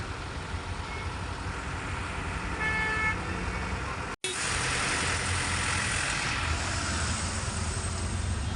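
A sleeper bus engine rumbles loudly while pulling away at a busy junction, a continuous heavy drone with traffic noise and a brief horn toot, broken by one short cut near the middle.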